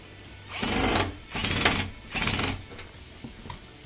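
An LG washing machine under repair, running after its front panel is refitted, with three loud rhythmic bursts of mechanical whirring and churning, each about a second long, separated by short pauses and fading to quieter clicks at the end.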